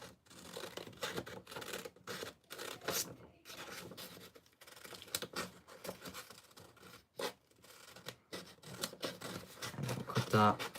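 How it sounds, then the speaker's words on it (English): Simple scissors snip through printed paper at close range, giving a series of short crisp cuts and rustles under a person talking throughout. "we're gonna cut like around here with some simple scissors here"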